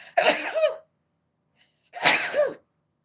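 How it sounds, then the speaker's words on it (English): Two sneezes a couple of seconds apart, each a sharp, breathy burst up close with a brief pause of silence between them. "I'm about to sneeze."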